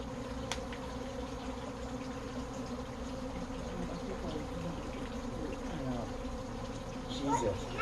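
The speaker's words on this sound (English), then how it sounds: "There's a swarm of bees." A swarm of bees fills the air with a dense, continuous buzzing hum, steady and close throughout, with faint voices and a slight rise in noise near the end.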